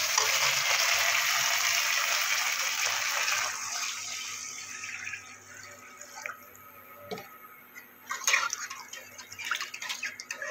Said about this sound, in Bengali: এবার আমি দিয়ে দেবো জল।